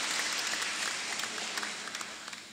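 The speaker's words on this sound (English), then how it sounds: "With your team, a round of applause for Dr. Nkoma." Applause for a graduation speaker at a Malawi university ceremony, a dense burst of clapping from a large audience that starts full and slowly thins out over a couple of seconds.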